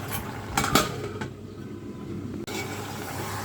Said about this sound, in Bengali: এখন আমি ঢেকে দিব আবারও